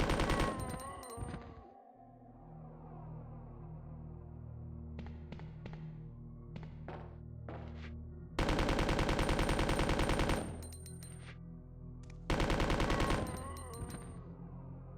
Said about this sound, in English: We're going to have to rely on the machine gun for a bit.